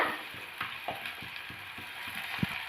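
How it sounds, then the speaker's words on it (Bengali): Onion frying lightly in a pan for a fish-head lentil dish, a soft steady sizzle broken by small clicking stirs and scrapes, close up with no voices. "পেঁয়াজটা আমরা হালকা ভেজে নিচ্ছি"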